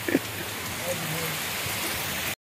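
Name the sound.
stormy rain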